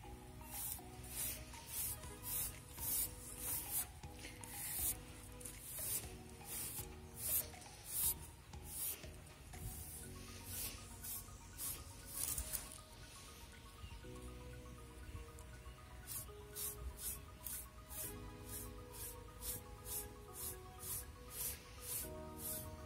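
A round American curry brush works over a shedding horse's coat, giving steady rhythmic rasping strokes that repeat close by with a few short pauses, and no voices are heard.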